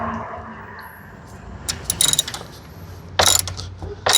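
Socket wrench on an extension turning the battery terminal bolt of a 2022 Jeep Renegade, with a few bursts of close, quick ratcheting clicks separated by quiet pauses.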